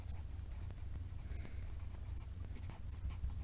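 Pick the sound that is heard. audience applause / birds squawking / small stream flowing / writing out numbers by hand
writing out numbers by hand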